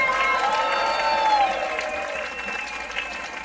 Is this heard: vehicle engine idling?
no